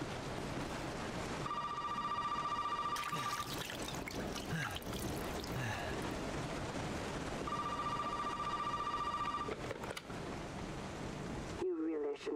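In the Resident Evil 7 horror game, a telephone rings in two separate bursts of electronic trilling, each lasting about two seconds, amid a noisy, rumbling ambient background.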